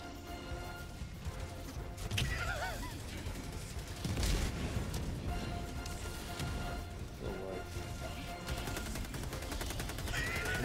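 Gunfire in the video game Helldivers crackles in rapid automatic bursts with sharp heavy shots and blasts, layered over game effects and muffled background noise, fairly faint overall.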